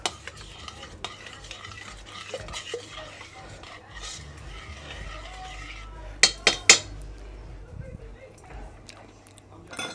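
Roast beef juices stirred in a pan, with scraping of a utensil and faint sizzling, ending in a few sharp metallic clanks against the pan, close by while someone talks.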